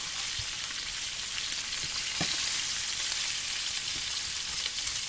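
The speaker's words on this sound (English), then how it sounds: "I'm going to come back and fry the omelets and the egg" Omelets and an egg frying in a pan, a steady close sizzle with faint crackles and occasional stirring taps, no voices.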